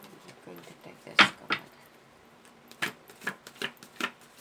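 Tarot cards being shuffled by hand, a series of soft papery riffs and slaps in irregular bursts, close and fairly quiet, with a sharper snap near the start.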